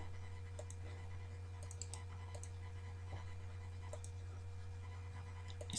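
Scattered, irregular keystrokes on a computer keyboard enter a device name. The clicks are faint and sit over a steady low electrical hum in a quiet room.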